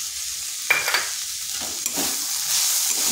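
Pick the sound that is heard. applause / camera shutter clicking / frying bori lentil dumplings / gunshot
frying bori lentil dumplings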